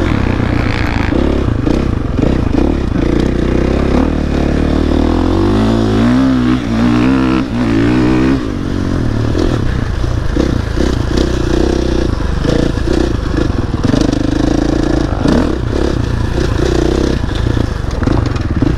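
A dirt bike on a dusty backyard track in Tennessee roars loudly and close, its engine revving up and down with clattering and scraping throughout.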